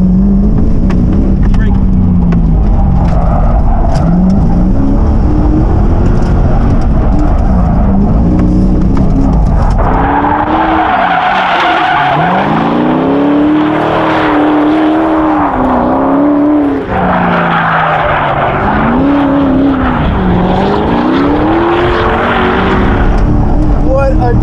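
A car fitted with a shopping cart angle kit revs repeatedly while being tested in a racetrack parking lot, engine pitch climbing and falling in sweeping waves, loud and close throughout.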